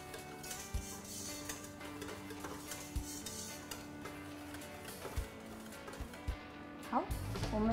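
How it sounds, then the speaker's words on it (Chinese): Fresh milk being stirred into rice-flour cheesecake batter, with soft rhythmic scraping and occasional clicks from a whisk or spatula against the bowl, faint and close. Music or speech runs underneath. "我们鲜奶搅拌到这个程度就可以了"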